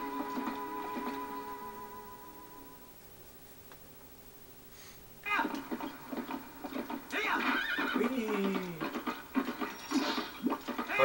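Epona, Link's horse in Zelda: Twilight Princess, whinnies in a rising, wavering neigh after a quiet stretch, with game hoofbeats and effects dense and loud around it.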